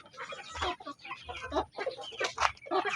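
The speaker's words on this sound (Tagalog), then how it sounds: "Ayan mga kapanok, ang ating mga alaga dito." A small backyard flock of chickens cluck in short, irregular bursts close by, the calls overlapping and fairly quiet.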